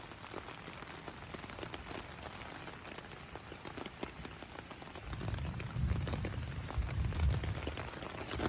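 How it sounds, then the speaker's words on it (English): Steady rain patters on a tent, a dense hiss of drops that grows heavier and more drumming partway through, close and even, with no voices. "starting to rain."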